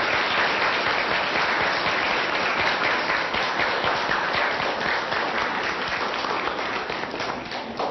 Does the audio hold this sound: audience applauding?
yes